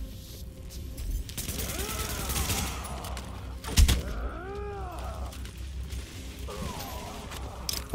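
Gunfire from a third-person shooter set in a ruined lower Manhattan, with bursts of shots over rumbling ambience, a sharp loud crack near the middle, and tonal whooping electronic effects sweeping through.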